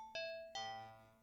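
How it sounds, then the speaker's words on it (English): Two-tone doorbell chime ringing a clear ding-dong, two bright tones struck in quick succession, each ringing out and fading, faint and alone with no voices. "That was a doorbell, but it's the music."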